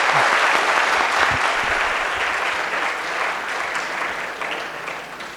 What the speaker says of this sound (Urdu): اچھا، میں یہ سوچ رہا ہوں کہ یہ تالی کس بات پہ بج رہی ہے؟